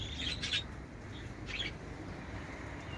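Small birds in an enclosure at a farm give a few bright, high chirps in short bursts over a low background hum, fairly faint and intermittent.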